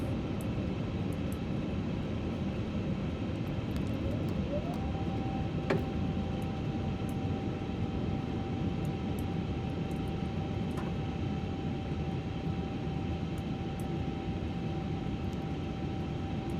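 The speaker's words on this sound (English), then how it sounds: "APU start." The auxiliary power unit of an Airbus A350 starts up in a flight simulator as a steady whine rises in pitch and then holds over a constant cockpit engine drone, joined by a click and an intermittent soft ticking.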